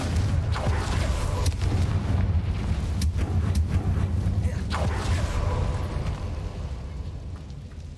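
A Confringo spell explosion in the video game Hogwarts Legacy, heard as a sustained loud rumbling roar with low booming weight, scattered cracks and creaks on top, fading slightly toward the end.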